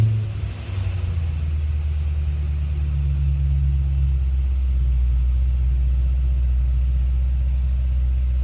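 A 2013 HSV Senator Signature engine turns over by push-button start and settles into a steady low idle, a deep continuous rumble close by with no talking.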